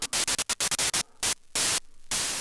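White noise from a Dreadbox Dystopia Eurorack module, bitcrushed and chopped by a gate into abrupt loud hissing bursts that start quick and irregular, then stretch into longer blocks separated by quieter, grainier gaps.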